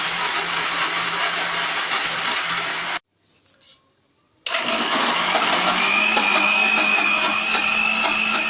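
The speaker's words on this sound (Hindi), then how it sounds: "सबसे पहले हम बादाम को अच्छे से ब्लेंड करेंगे" Kitchen blender grinding almonds, a loud steady whirring run that stops abruptly for about a second and a half, then restarts at full power.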